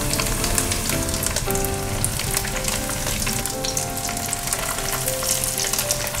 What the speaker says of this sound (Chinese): 先让它煎。